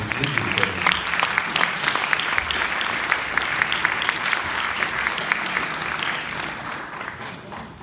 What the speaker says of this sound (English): please give a warm round of applause for this performance